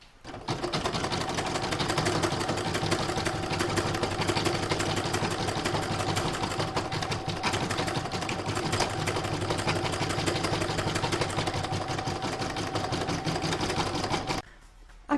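An embroidery sewing machine stitching a lined Santa bag in the hoop, its rapid mechanical needle chatter running steady and loud for about fourteen seconds before stopping abruptly.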